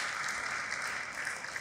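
A large audience applauds steadily for a brief moment, a dense even wash of clapping heard at a distance with no voices over it.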